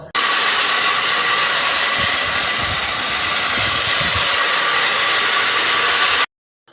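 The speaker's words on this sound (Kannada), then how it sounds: "ಇಲ್ಲಿ ನಮ್ಮ ವಿಕಸಣ ಮತ್ತೆ ನಮ್ಮ ಮಾಯಪ್ಪರು ಗೊರಬಲು ಮಿಷಿನಿಗೆ ಹಾಕ್ತಾ ಇದ್ರು." A husk processing machine runs loudly and steadily with a constant mechanical roar and rattle, then cuts off abruptly near the end.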